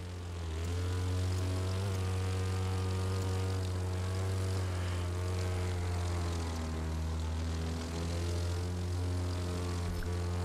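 An aerobatic propeller plane engine in The Crew 2 drones loud and steady with a strong low hum and faint pitch shifts as it flies, heard alone without talk.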